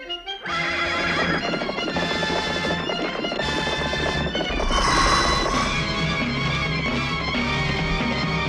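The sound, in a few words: horse neighing and hooves clip-clopping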